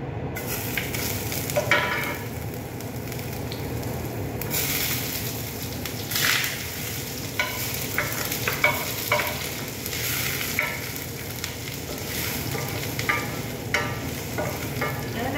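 Garlic and onion sauté in a hot pan, a continuous sizzle and crackle with scraping stir strokes and occasional louder spatters, close and steady throughout.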